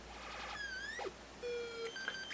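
CL9561 sound-effect chip rigged as a strange synth module and run without proper power: thin electronic chirps and sweeping beeps rise and fall over a constant hiss, with a steady held tone partway through. The sounds are faint and quick.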